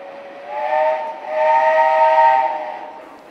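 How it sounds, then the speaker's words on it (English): A steam engine sounds a loud, close whistle in two long blasts with a slight dip between them, and steam hisses under the tone as the engine sets off at a funeral procession. "a cloud of steam in the background indicating that we've"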